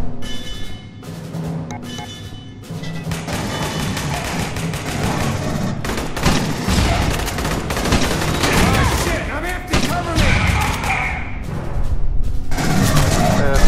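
Grenade launcher explosions and gunfire rattle through a firefight in the Aliens: Colonial Marines video game, dense loud bursts and booms nearly continuous, with voices talking over the chaos.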